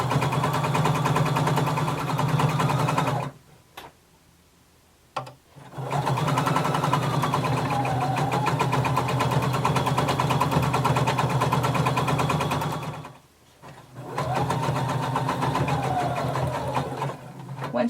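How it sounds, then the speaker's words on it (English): A sewing machine stitches a seam toward the center back of a Simplicity 1283 garment, running in long, steady, loud whirring bursts with two brief pauses where the motor stops. "we're going to sew until we get to the center back"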